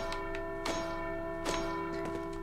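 A bell in Resident Evil 4's cult-owned castle tolls three times at a steady interval, each strike ringing out and decaying over a sustained droning tone.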